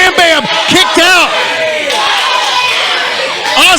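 A wrestling arena crowd at a CWF Eternal event roars and chants together, loud, dense voices rising and falling in rhythmic shouts with whoops throughout.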